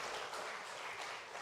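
Brief, fairly quiet applause from a church congregation during a Sunday afternoon service, a short even patter of many hands lasting under two seconds.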